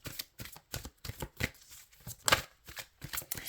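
A deck of tarot cards is shuffled close up with quiet, papery riffles and soft slaps in quick irregular bursts, no voices.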